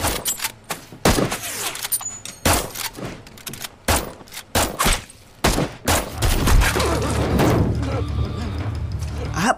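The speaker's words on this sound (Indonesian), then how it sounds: "menembak ke arah pohon" Police gunfire aimed at a tree, heard as a fast, loud run of sharp shots and thuds at irregular intervals, some in close bursts, with a denser stretch of clatter toward the end.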